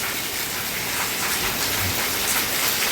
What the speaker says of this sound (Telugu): వర్షం చూడండి ఫ్రెండ్స్, చాలా వర్షం అయితే కొడుతుంది.